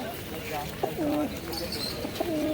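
Kalanka pigeons at a pigeon market coo in soft, rolling calls a few times close by, with people talking over them.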